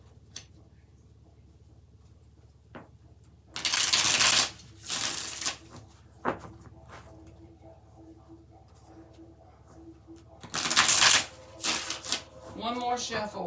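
Tarot cards being shuffled in close, loud riffling bursts, two long ones and a shorter one, separated by quieter soft taps and handling sounds, with a voice speaking near the end.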